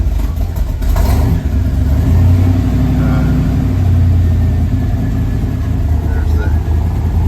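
A 1966 Corvette engine running on a cold start, a loud, steady low rumble close by that swells slightly as it revs, with the parking brake on.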